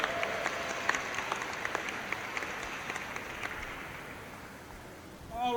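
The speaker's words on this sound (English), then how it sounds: "Let's give him a round of applause." Students at a school ceremony applaud together, a broad steady wash of clapping at moderate level that thins out slightly near the end.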